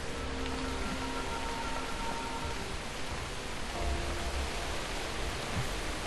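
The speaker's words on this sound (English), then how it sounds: "Oh, it started raining." Steady rain falling in the video game Guild Wars 2, a soft, even hiss of broadband patter with faint tonal ambience beneath, continuous and fairly quiet throughout.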